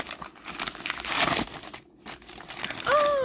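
A Dooney & Bourke package is unwrapped up close, with bursts of crinkling and rustling plastic and paper, a short pause, then more crinkling and a light tear near the end.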